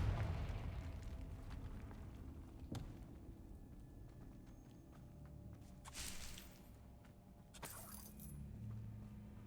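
Spell explosions from the Confringo curse in Hogwarts Legacy, a sharp burst near the start followed by further bangs and crackles spaced through the stretch, with scattered clatter and rumble between them and no voices.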